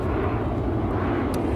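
An airplane taking off near a beach, a loud, steady jet engine roar close by that fills the whole moment.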